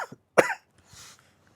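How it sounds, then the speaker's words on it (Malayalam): A person in a household drama coughs: a short hack, then one loud, harsh cough burst, followed by a softer breathy throat sound. The cough is close and clear, with no other talk. "ഈ ചുമ അങ്ങോട്ട് മാറുന്നില്ല"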